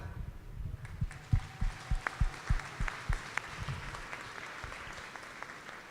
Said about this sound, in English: all of you deserve a huge round of applause for your incredibly hard